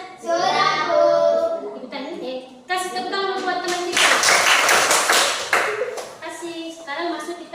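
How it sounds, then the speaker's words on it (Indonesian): Children in a classroom clap for a classmate, a burst of quick, dense applause near the middle, with children's voices and adult speech around it throughout. "Kasih tepuk tangan buat teman kita."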